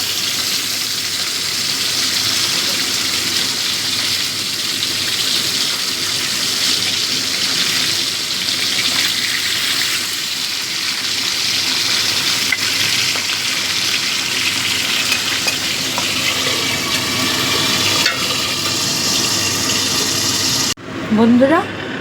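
Pabda fish sizzle in a pan, a steady close hissing and crackling that continues throughout before a brief clunk at the end.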